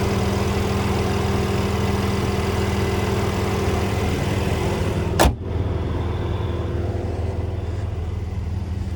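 A 2020 Mercedes-Benz SL450 3.0-litre twin-turbo engine idles steadily in park with a low, even hum throughout, broken once midway by a brief sharp click or thump.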